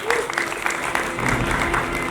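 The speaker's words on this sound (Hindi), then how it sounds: "ऑडियंस तालियां रुकनी नहीं चाहिए" An audience clapping at a film festival, dense steady applause filling the hall for a couple of seconds.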